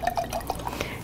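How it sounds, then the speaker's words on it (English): White wine being poured from a bottle in a kitchen, a brief close run of gurgling, dripping liquid glugs with no talk over it. "take a good bottle of white wine, open it, pour it out, and take a sip"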